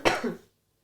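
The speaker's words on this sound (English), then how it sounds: "can we take a little break because I need to cough?" A single short cough from a person, sharp at the onset and tailing off quickly into silence.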